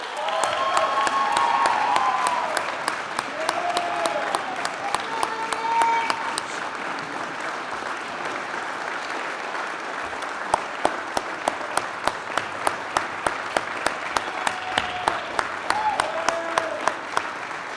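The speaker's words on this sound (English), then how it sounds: "let's please do a warm round of applause for Staff Sergeant Andrew P. Ludwig." Graduation ceremony audience applauding at a military class graduation, loud sustained clapping with some voices that thins out midway into scattered individual claps toward the end.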